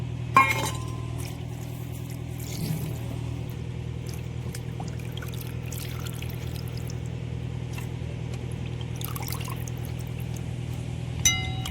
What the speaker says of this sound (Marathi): मटण 2 ते 3 पाण्याने चकचक मस्त धुवून घेऊ